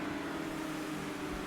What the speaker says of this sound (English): So the acceleration once again. Crisp and smooth off the line.